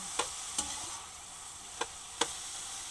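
Bamboo shoots sautéed with anchovies get stirred in a pan, with four sharp scrapes of a utensil against the metal, spaced unevenly over a faint background sizzle and no talking.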